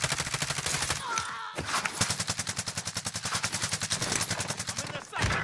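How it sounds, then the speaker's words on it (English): Gunfire in Call of Duty Warzone rattles in long, rapid automatic bursts, loud and close, with short pauses between volleys. "Under hostile fire."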